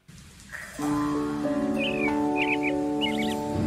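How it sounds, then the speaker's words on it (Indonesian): Bird chirps at a morning radio station break, brief high tweets over a sustained tonal musical bed, moderately loud with no speech. "Pagi-pagi memang seneng banget dengar kicauan burung"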